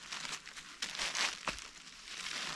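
Soft crinkling and rustling of backpacking tent fabric being folded, quiet and close, with a few brief louder crumples.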